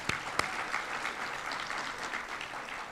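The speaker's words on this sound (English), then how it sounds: "So let's give them both a round of applause." An audience at a sustainability summit applauds the event's sponsors: steady, moderately loud clapping from a sizable crowd that holds for about three seconds, with a couple of sharper, closer claps near the start.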